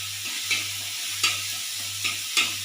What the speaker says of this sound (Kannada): ಒಂದು ಟೊಮೆಟೊನ ಹಾಕೊಂಡ್ಬಿಡೋಣ ಸಣ್ಣದಾಗಿ ಹೆಚ್ಚಿರೋದು ಟೊಮೆಟೊ ಈ ಥರ ಚೆನ್ನಾಗಿ ಹುರ್ಕೊಂಡ್ಬಿಡ್ಬೇಕು